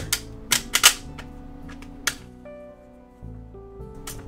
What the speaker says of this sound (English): You could also press it against the table to load the rounds if you want to make it easy.